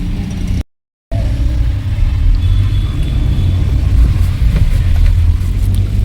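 Road traffic around a moving car, heard from inside the cabin in Mumbai's BKC area: a steady, loud low rumble of engine and road noise runs almost throughout, with faint passing-vehicle sounds above it and one brief dropout near the start.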